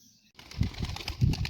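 Pigeons released to fly take off outdoors after a brief quiet start, with a few close, rapid bursts of flapping wings coming in uneven pulses.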